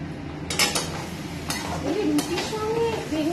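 Ginger, chili and garlic paste stirred into mashed eggplant for baingan bharta, a spoon scraping and clinking against the pan in a few close, uneven strokes alongside a faint voice in the room.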